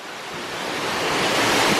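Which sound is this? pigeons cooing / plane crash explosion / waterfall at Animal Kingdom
waterfall at Animal Kingdom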